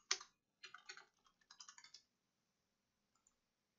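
Fingers type on a computer keyboard in a quiet room: a short burst of soft, close key clicks over about two seconds, then silence and two faint final taps.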